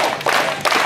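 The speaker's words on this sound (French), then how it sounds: "Applaudissons." A church congregation claps together at a Sabbath-Sunday celebration service, a short burst of loud, close, dense handclaps with two stronger surges.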